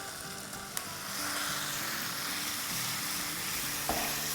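Pieces of chicken breast drop into a hot pot, setting off a strong, continuous sizzle that swells after a brief clatter and keeps going, with a couple of sharp knocks along the way.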